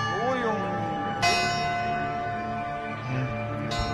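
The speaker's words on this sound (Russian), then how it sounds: "Я в шоке от этого колокола." A large church bell in the Oryol region is struck twice, each clang ringing out in deep, sustained tones that linger between strikes; a voice is heard briefly at the start.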